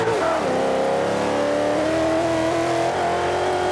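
A race car in the video game Forza Motorsport 5 at Le Mans screams at high revs, its loud engine note climbing steadily through a gear with a brief dip, with no talking.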